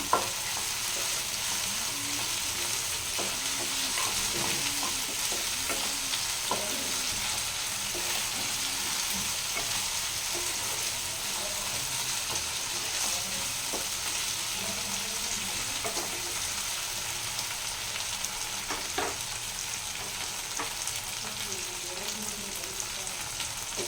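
Ginger-garlic paste fries in oil for a jackfruit and potato curry, giving a steady close sizzle with soft spoon scrapes and stirring throughout.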